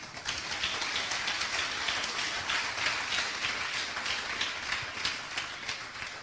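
Sustained congregation applause in a church service, a dense wash of many hands clapping steadily for several seconds.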